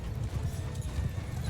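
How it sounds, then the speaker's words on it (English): In Mount & Blade II Bannerlord, a horse gallops in a rapid, dense patter of hoofbeats, close and steady across the short stretch, with battle noise underneath and no clear talking. "There goes the horse."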